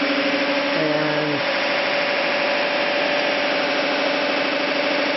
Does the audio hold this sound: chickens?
no